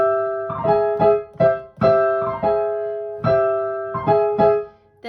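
Solo jazz piano plays the opening of a jazz standard, clusters of whole-tone chords struck in short rhythmic bursts, close and ringing, with no talking.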